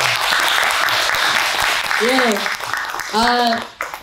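An audience at a humanities lecture and book concert applauds a professor, a dense burst of clapping that fades near the end, with a voice speaking briefly over it.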